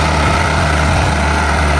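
Heavy tractor truck hauling an extendable trailer, its big diesel engine holding a loud, steady, low idle-like drone close by with no break.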